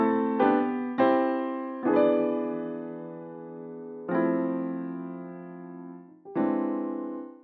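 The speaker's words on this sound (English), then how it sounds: "I've also added a turnaround in the grand piano section" Grand piano turnaround in a deep house track, five clean, struck chords, each ringing and slowly decaying before the next, played alone with no drums or voices.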